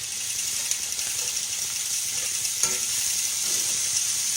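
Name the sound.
hamburger steak sizzling in a pan, being stirred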